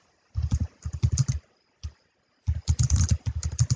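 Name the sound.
typing on a computer keyboard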